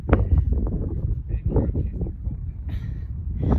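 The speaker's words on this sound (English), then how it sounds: "Yeah, it's getting so windy" Gusty wind buffets the microphone with low rumbling bursts while people talk throughout, close and conversational.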